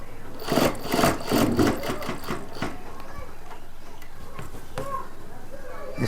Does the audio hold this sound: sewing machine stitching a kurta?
yes